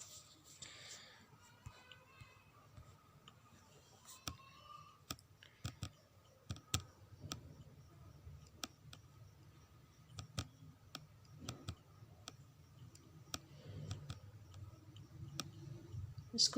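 Computer mouse being clicked and double-clicked, scattered faint sharp clicks, some in quick pairs, spread across a quiet background with a low hum.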